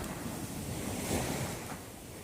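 Ocean waves wash onto the sand at Phla Beach under a rising tide, a steady continuous surf with wind rushing across the microphone, loud and close, with no voices.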